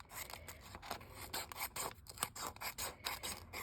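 Paper trimmer cutting through paper for a collage, a run of quick, close scraping and slicing strokes in an uneven rhythm, with no talk.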